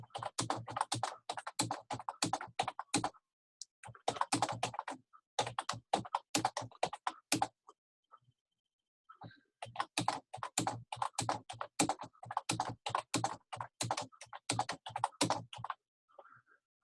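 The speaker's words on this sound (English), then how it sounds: "I will type out the ABCs." Rapid clicking keystrokes on a computer keyboard come in fast close bursts, broken by short pauses and a longer gap in the middle, with no talking.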